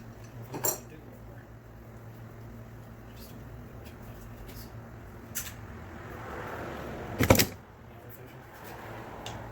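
Metal wrenches clink and clatter in a few sharp bursts as tools are handled while taking apart a 1965 15 hp Johnson outboard motor, with quiet stretches in between.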